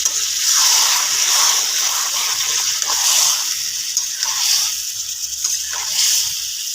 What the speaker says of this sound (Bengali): ম্যারিনেট করা গামলাটার থেকে একটুখানি ধুয়ে জলটা দিয়ে দিলাম